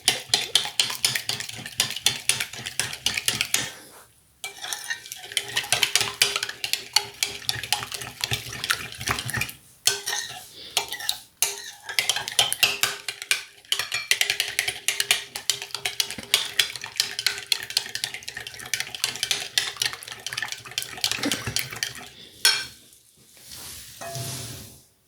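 Chana chaat ingredients being stirred and mixed in a bowl until creamy, a steady wet churning and scraping that runs nearly continuously, close and fairly loud, with brief pauses.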